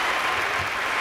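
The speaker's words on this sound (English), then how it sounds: "Really, give them a round of applause." An audience claps for hall of fame inductees, a loud, dense burst of applause lasting only a moment.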